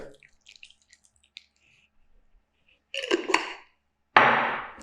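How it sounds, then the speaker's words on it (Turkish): Homemade salad dressing poured over a quinoa and strawberry spring salad, a few faint drips and clinks early, then two short wet bursts of liquid splashing onto the leaves, close and fairly loud, with no talking. "hemen hazırladığım salata sosumu hepsini döküyorum"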